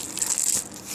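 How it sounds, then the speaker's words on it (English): Cooked sticky rice is fluffed and pressed in a brief burst of soft, moist squishing and crunching, close and fairly quiet. "let's fluff up the rice"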